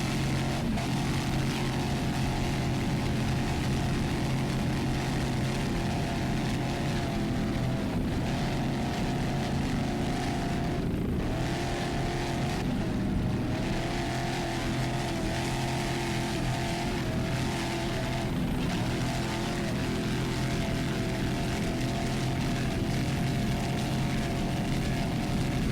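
Chevy-powered 30-foot Phantom racing powerboat at an APBA world championship race, its engine a loud, steady roar filling the whole stretch with brief dips in pitch and intensity, no voices over it.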